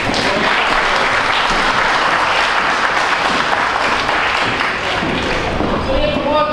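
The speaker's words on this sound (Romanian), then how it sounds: "Aplauze." Sustained, dense applause from a large audience at a 30th-anniversary company celebration, loud and steady throughout with no break.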